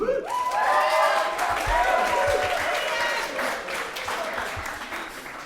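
Applause from the audience at a student union candidate debate, full crowd clapping with some cheering and whoops at the start, gradually tapering off.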